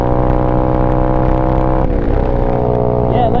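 An Apollo RFZ Chinese dirt/pit bike engine runs loudly and close by, holding a steady, buzzing drone that dips briefly midway before resuming.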